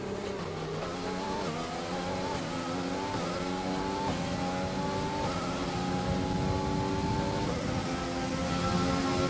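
Open-wheel Formula 1 race car in the F1 2020 game during Russian Grand Prix qualifying, engine droning loud and steady with rising and falling revs through gear changes, no talk.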